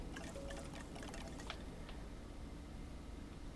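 Water pours in Jurassic World Evolution 2, a faint trickling splash with a few sharp drips early on, then a soft continuous wash settling into the background.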